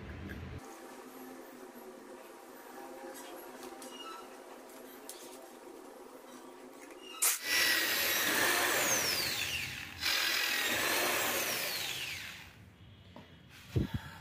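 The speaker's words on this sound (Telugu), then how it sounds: "తనకైతే డ్రిల్లింగ్ అయిపోయింది." Power drill boring holes through a broken bike mudguard during a repair, a loud sustained whirring burst from about seven seconds, pausing briefly near ten seconds and then continuing before trailing off, after a quiet start.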